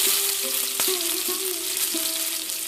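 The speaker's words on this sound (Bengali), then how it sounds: "টমেটোগুলো আমি 3 থেকে 4 মিনিট কড়াইয়ে ভালো করে নাড়াচাড়া করে নেব।" Raw tomatoes fry and sizzle in hot oil in a kadai with black cumin and green chillies, a steady close hiss broken by several sharp scrapes and clanks of a spatula stirring, with no talk.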